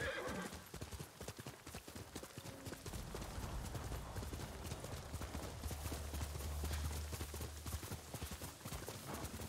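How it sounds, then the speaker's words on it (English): A horse gallops in the Ghost of Tsushima video game, hooves pounding in a fast, steady rhythm close by, with a whinny near the start and no talking. "I'm coming, horse. I'm coming to you this time."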